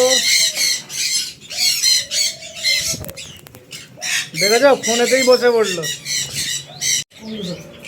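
Harsh, repeated bird squawks up close, loud and bursting in rapid sequences, mixed with a person talking at moments.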